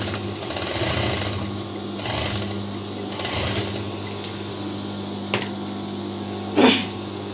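A sewing machine runs in bursts as it topstitches the outer part of Oxford uniform fabric. The whir is close and steady, with a few short clicks and a louder knock near the end.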